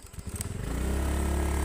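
A motorcycle in motion builds to a steady, close engine drone after a few uneven pulses, with wind and road noise mixed in and no talking.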